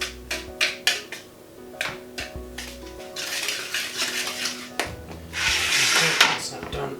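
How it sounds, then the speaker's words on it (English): A whisk beats cocoa powder into a vegan chocolate cake mixture in a bowl: quick, close clinks and taps against the sides give way to a steadier, brushing swish that swells toward the end. "just lightly whisk it"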